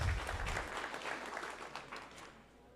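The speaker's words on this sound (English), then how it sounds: "Let's give them an applause, people." Audience applause after a talk at a Devcon conference stage, a dense burst of clapping from a crowd that is fairly faint and distant, tapering off toward the end.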